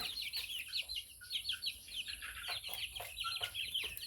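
Grown young gamecock chicks of a Zombie and Kapu cross give quick, repeated clucks and high chirps close by, an irregular busy chorus with short pauses.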